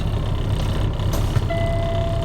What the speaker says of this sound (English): so my light and buzzer came on at 70 psi